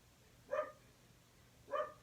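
Two separate dog barks ring out about a second apart, each short and moderately loud, against a quiet room background.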